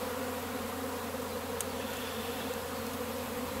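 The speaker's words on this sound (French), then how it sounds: "Et puis regardez les abeilles là." Honeybees swarm around a beehive in a dense, steady buzz that stays close and even throughout, with no talking.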